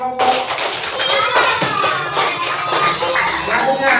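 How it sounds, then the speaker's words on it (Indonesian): Classroom of students applauding a presenting group, continuous clapping from many hands at close range with children's voices and chatter layered through it. "tepuk tangan untuk kelompok."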